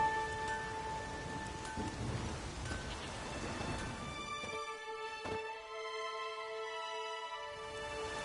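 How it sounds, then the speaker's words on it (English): Video game thunderstorm with steady rain hissing on surfaces, a long rolling thunder rumble, and sustained synthetic tonal sounds layered over the weather; no speech. "There's no point standing here in the rain."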